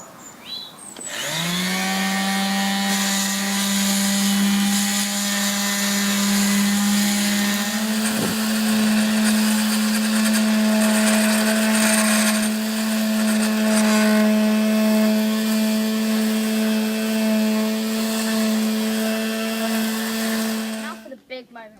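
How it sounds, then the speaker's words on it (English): A power sander whines steadily for about twenty seconds, loud and close, sanding the edges of a wooden longboard deck, its pitch holding constant before it winds down. "I'm going to sand to the other side of the black line"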